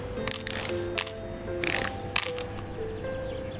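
Screws being removed from a Roomba vacuum cleaner in the Electrician Simulator video game: a handful of short, sharp clicks and brief bursts over a steady musical hum, with no talking.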